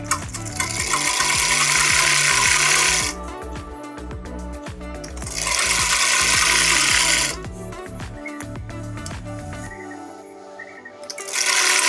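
A sewing machine stitches palazzo fabric in loud, close bursts of rapid mechanical clatter, stopping and restarting a few times with quieter ticking between runs.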